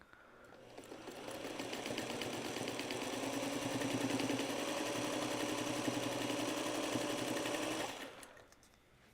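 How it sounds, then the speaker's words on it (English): A sewing machine runs steadily for several seconds, stitching back over a foundation paper piecing seam line with a rapid, even mechanical chatter, close and clear, before stopping abruptly. "I'll go right back over that stitching line that I just did."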